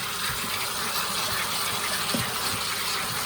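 Water gushes and rushes steadily out of a koi pond filter being flushed to clear debris from its bottom chamber, a continuous loud broadband flow with faint low knocks underneath.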